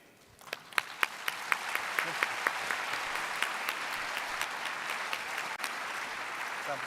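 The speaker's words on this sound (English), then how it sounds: "another big round of applause, please" Sustained applause from a congress audience at a closing ceremony, starting with a few distinct claps and swelling into steady, dense clapping that continues throughout.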